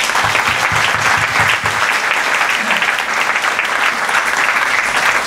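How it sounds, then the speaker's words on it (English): Loud, sustained applause from an audience at a Collin County Republican Men's Club event honoring donors, continuous clapping filling the room, with brief low voice murmurs near the start. "So let's give those folks like David McCall a round of applause."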